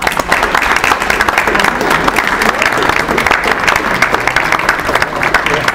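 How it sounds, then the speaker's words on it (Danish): Clapping from those gathered at a city council meeting, loud and close, a brisk, continuous patter of many hands with faint voices mixed in underneath. "men man må godt klappe"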